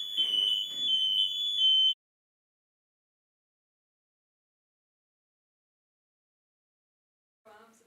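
A shrill electronic alarm blares in rapid repeated beeps for about two seconds, then cuts off into silence before a brief faint burst returns at the end.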